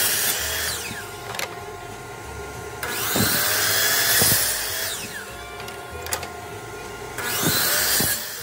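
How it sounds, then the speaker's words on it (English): A chop saw cuts through a strip of plywood in a workshop, three loud whining bursts each spinning up and biting into the wood, separated by quieter pauses with no talk. "now we're going to cut it on the chop saw"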